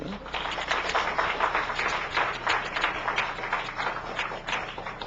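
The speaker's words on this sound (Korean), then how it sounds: "여러분들 다 환영의 박수" A church congregation claps in welcome of visiting guests, dense continuous applause from many hands filling the room, with voices mixed in under the clapping.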